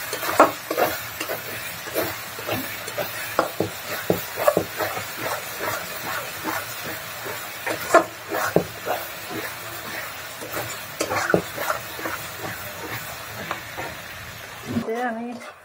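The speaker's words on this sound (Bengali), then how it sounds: "আর এদিকে আমি মশলা কষাচ্ছি" Spices sizzling and frying in a pan while being stirred, a steady hiss broken by frequent scraping strokes, with a voice speaking over parts of it.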